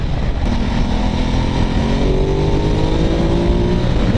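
A Ducati Multistrada's engine revs hard while being ridden, giving a loud, steady drone with rising tones that holds for several seconds without a break and with no voices.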